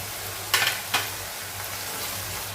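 Ginger garlic paste hits a pan of onions fried to a pinkish colour, giving two quick bursts of sizzle and a stir for a dhaba-style dum aloo masala curry, then a low steady frying hiss.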